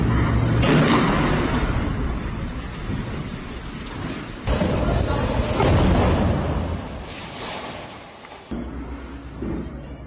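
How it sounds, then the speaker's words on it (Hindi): Heavy booming blasts from bombing in Beit Lahiya, northern Gaza, rolling and rumbling loudly through most of the stretch, with sharp new impacts and a thick, broadband roar like thunder between them. "उत्तरी गाजा के बेत लाहिया इलाके में बमबारी की गई है।"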